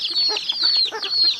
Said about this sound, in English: These are day-old chicks.